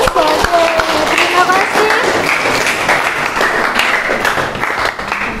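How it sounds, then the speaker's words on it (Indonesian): Audience applause in a school session after a group presentation, dense continuous clapping throughout, with a voice speaking briefly over it near the start. "Oke, beri tepuk tangannya."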